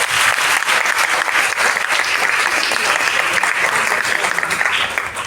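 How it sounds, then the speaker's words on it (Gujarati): An audience gives loud, sustained applause at a Gujarati reading-inspiration competition for mother-tongue education, a dense crowd of clapping that holds steady for several seconds. "એકવાર જોરદાર તાળીઓ પાડો"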